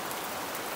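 Steady rain falls outdoors on a farm, a soft continuous hiss of drops on surfaces with no voices, brief and fairly quiet.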